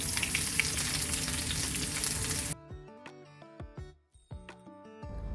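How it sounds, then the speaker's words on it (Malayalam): Shallots sauté with mustard seeds and dried red chilies in coconut oil, a busy, close crackling sizzle that cuts off abruptly halfway, followed by tonal plucked notes. "നമുക്കൊരു ഗോൾഡൻ കളർ ആവുന്നത് വരെ ഒന്ന് വഴറ്റിയെടുക്കാം"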